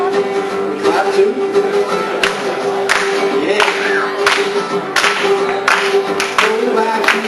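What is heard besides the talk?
audience clapping along to live guitar song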